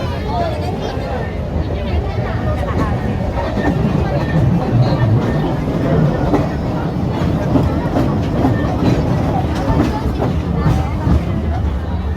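A train rumbles past close by with a steady rattling clatter, while a crowd murmurs and chatters underneath throughout.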